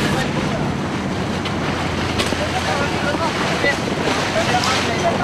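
A sailboat moves under sail, with strong wind buffeting the microphone and water rushing along the hull in a constant broadband wash, and a voice faintly present.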